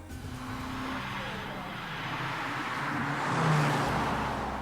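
A Ferrari 458 Spider driven along a scenic road in Cape Town gives a steady, moderately loud engine drone mixed with wind rush, swelling slightly near the end.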